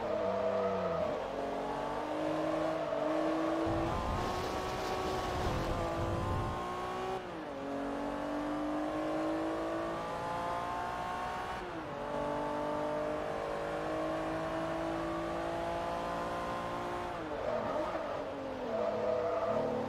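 A race car engine in Forza Motorsport 3 revs continuously for about twenty seconds, climbing through gears with repeated pitch rises and drops at each shift, with a brief squeal of tires in the middle.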